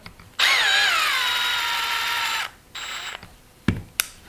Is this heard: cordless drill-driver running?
yes